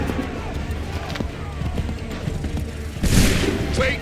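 A musket volley fired on command in the Assassin's Creed III video game at the Lexington and Concord or Bunker Hill battles, a loud sudden crack of massed shots near the end over a busy battlefield din with shouting voices.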